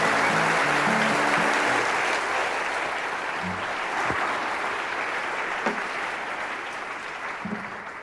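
A theatre crowd at a stand-up comedy show gives loud, sustained applause, a dense, continuous wash of clapping that holds steady and then slowly fades.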